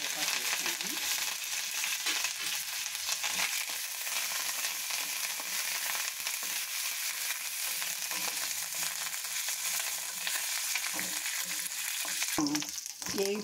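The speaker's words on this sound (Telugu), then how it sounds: "ఎల్లుల్లిపాయ వేసుకుందాము. తర్వాత ఎండుమిరపకాయ, కరివేపాకు వేసుకుందాము." Tempering for carrot chutney as garlic, dried red chillies and curry leaves fry in hot oil, a loud, dense, continuous sizzle with stirring scrapes throughout and a small clatter near the end.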